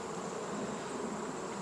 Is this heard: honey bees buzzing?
yes